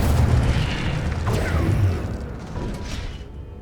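Spell effects in Hogwarts Legacy, including an Incendio fire spell, come through as a deep booming burst with crackling rumble that fades over a few seconds, with no talk.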